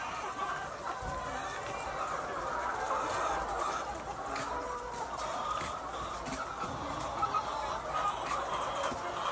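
A building full of laying hens on a poultry farm keeps up a dense, continuous clucking chatter at a low, even level, with faint human voices mixed in.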